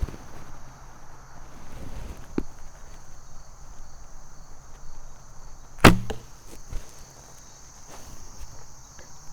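A single arrow released from a traditional bow during practice, one sharp loud snap near the middle, with faint softer clicks before and after over steady outdoor insect chirping.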